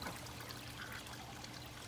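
Water returning from the outflow pipe of a backyard duck pond filtration system, a steady, continuous trickling pour at close range with no voices.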